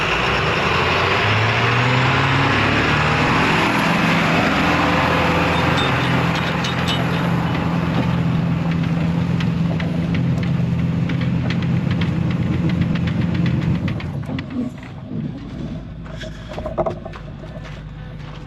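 A 7.3 engine in a dump truck stuck in the mud, held at full throttle, roars loud and steady with a dense low rumble for about fourteen seconds, then drops off and settles to a lower, uneven idle.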